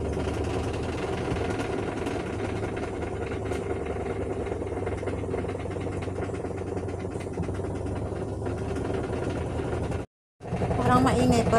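A washing machine running its dryer cycle gives a loud, steady mechanical drone with a rattling hum throughout. It cuts out briefly near the end, then resumes.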